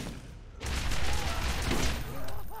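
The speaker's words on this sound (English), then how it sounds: "Teleporting grenades, come on." Teleporting grenades go off in the Borderlands shooter game: a sudden loud burst after a brief lull, then a sustained crackling barrage of blasts and gunfire that tapers slightly before swelling again.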